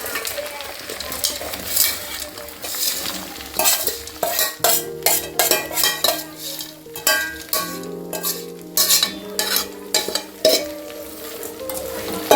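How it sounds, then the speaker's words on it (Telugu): Grandmother's chicken pickle being stirred in a pan, loud repeated scraping and clinking of a metal spoon against the pot over a steady sizzle, the strokes coming in an uneven rhythm. "Again, mixing."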